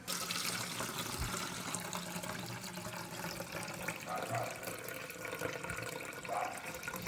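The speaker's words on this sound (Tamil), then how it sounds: "நிறைய தண்ணியை ஊற்றிட்டு" Water pours and splashes steadily over sesame seeds in a container, close and continuous, with a few small knocks and a faint voice in the background.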